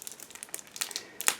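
Crinkling plastic as a sealed bag of photo-etched parts from a 1/35 IBG Models KTO Rosomak kit is torn open, quiet close rustles and crackles with a sharper burst near the end.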